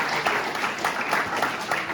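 A church congregation applauds during a French worship service, giving a steady wash of many hands clapping with faint voices mixed into it.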